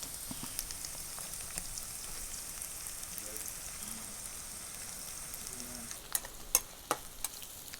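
Ginger and garlic fry in coconut oil in a pan, a soft steady sizzle with faint crackles and a few sharp utensil clicks toward the end.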